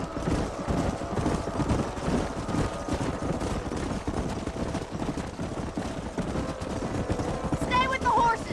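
Horse hooves clopping steadily across open ground while riders herd horses up a canyon in Red Dead Redemption, a continuous busy patter at mid distance, mixed with low rumbling game ambience and a brief high whinny near the end.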